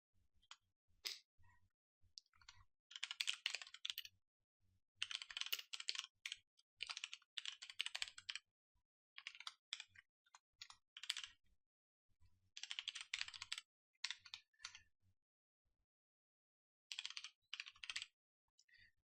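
Code being typed on a computer keyboard, close and crisp, in bursts of rapid key clicks separated by short pauses in an otherwise quiet room.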